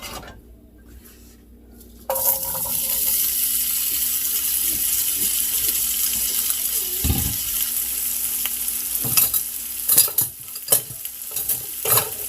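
After a quiet moment, potatoes hit hot grease and a loud, steady sizzle takes over, with occasional clinks and scraping from stirring.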